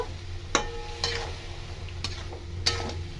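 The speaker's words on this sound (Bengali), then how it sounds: "আর এটা আমি ভালো করে এটা মিশিয়ে আমি রান্না করে নেব" Okra with soaked mustard and poppy seed paste is stirred in a pan over a low flame: a few distinct spoon scrapes and knocks sound against a soft, constant simmering sizzle.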